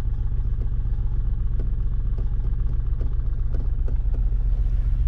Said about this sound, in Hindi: देखिए गाड़ी आपका बढ़ रहा है